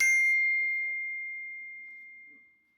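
A phone notification ding rings out once, bright and clear, then fades slowly over a couple of seconds with faint background sounds and no talking.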